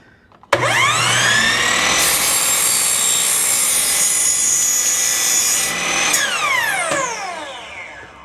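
A power saw cuts through a wooden fence board at a 15-degree angle, a loud steady whining rasp lasting about five seconds with the motor spinning up sharply at the start and winding down at the end.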